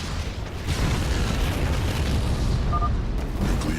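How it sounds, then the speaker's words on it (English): Nuclear silos blowing up in StarCraft II, a long loud rumbling chain of explosions and deep booms rolling continuously, close and heavy, with a brief tonal blip near the end. "Nuclear silos destroyed."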